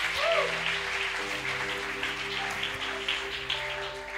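A church congregation applauds the Lord, a steady wash of clapping under sustained keyboard-like tones, loud and fairly close.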